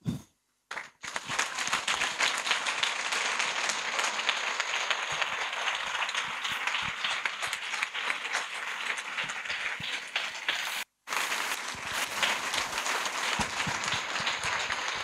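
A conference audience breaks into long, dense applause that holds loud and even for many seconds, cutting out briefly twice before resuming at full strength.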